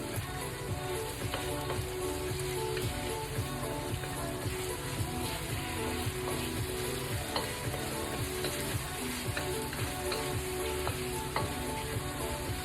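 Vegan sesame chicken frying steadily in a pan, a dense, continuous sizzle with crackling pops throughout as it is stirred and coated, close and fairly loud, with no talking.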